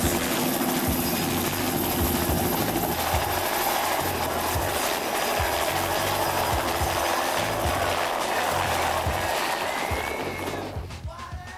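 A helicopter roars steadily overhead, its rotor chop and engine whine loud and continuous before fading slightly at the very end.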